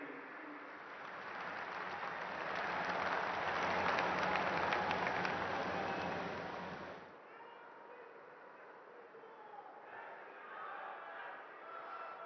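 Crowd applause at a political rally in Jind, Haryana, for the Chief Minister: loud, dense clapping builds and holds for about seven seconds, then drops to a quieter, more scattered patter.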